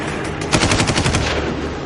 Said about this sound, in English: more RPGs and small arms fire started going on